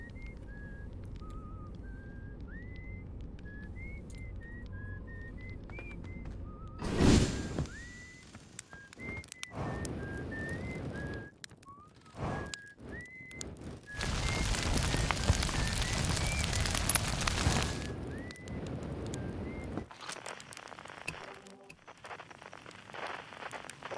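A character whistles a short repeating melody in the space exploration game Outer Wilds, clear phrases over a low ambient bed, broken by bursts of loud noise, rumbling and crackling.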